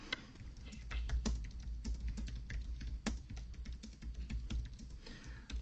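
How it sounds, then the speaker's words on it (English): Fingers typing on a computer keyboard, a fast, uneven stream of light close key clicks with a few sharper taps, with no voices over it. "I shouldn't look at the keyboard when I type"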